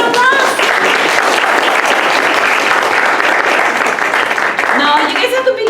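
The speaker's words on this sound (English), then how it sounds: "Round of applause." An audience applauds at a scholarship award dinner with loud, sustained clapping from a crowd, mixed with cheers and voices, before it tapers off near the end.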